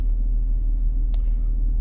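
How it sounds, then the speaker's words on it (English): Constant low engine rumble with steady road and tire hum, heard from inside a moving car, with no talking. "listening to the sound of the engine and the sound of the car tires on the road"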